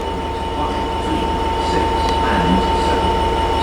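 A Great Western Railway train approaches Bristol Parkway station on the Great Western Main Line, a loud steady rumble with wheel squeal and a sustained tone.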